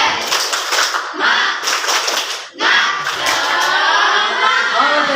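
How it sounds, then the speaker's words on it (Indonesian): A junior high school class claps together in a quick rhythmic cheer pattern, then pauses briefly before bursting into a longer stretch of lively clapping and cheering. "tepuk semangat."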